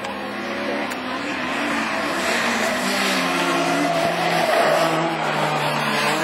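A Peugeot 306 rallycross race car in the Division 4 field at Lessay drives on the track, its engine a steady, loud roar that holds throughout with slight rises.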